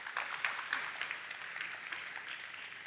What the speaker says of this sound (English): Huge round of applause one more time for Rach.